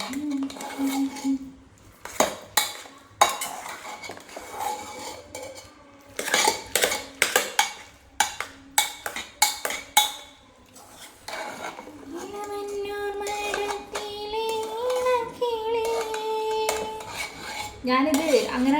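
A spoon clatters and scrapes against a pot while jackfruit and tapioca are mixed, with bursts of rhythmic clanking and stirring interrupted by someone talking throughout.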